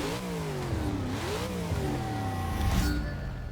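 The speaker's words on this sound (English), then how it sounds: "That sound is from a Hemi." A powerful Hemi V8 engine in a Plymouth Prowler in Forza Motorsport 6 revs up and down with rising and falling pitch, loud and close, ending in a sharp burst of acceleration.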